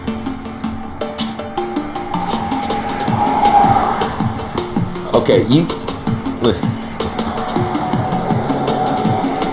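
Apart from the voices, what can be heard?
cars driving past on a freeway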